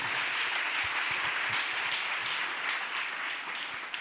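Steady, dense applause from a church congregation fills the whole stretch, a wash of many hands clapping at even loudness with no voices over it.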